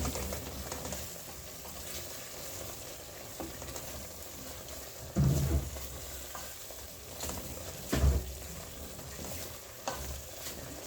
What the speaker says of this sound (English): I will just keep on stirring until they are half cooked